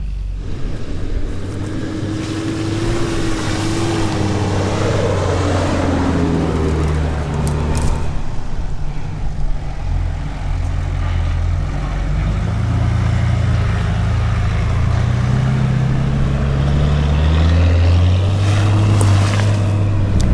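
A vehicle drives along a boggy bush track in Cape Arid National Park, its engine droning loudly and steadily throughout with shifting pitch as it works through the mud, and no talking.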